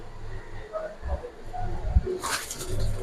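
Silver racer pigeons cooing in a pair, soft low coos repeating under background chatter and a brief rustle of movement near the end.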